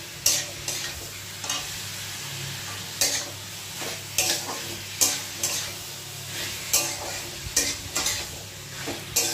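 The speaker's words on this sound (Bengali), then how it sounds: "লো ফ্লেম করে আমি একটু ভেজে নেব এটা" Chicken for restaurant-style chicken makhani frying in a pan over a low flame, with a steady sizzle broken by repeated scraping stir strokes of a spatula against the pan, close and fairly loud, no voices.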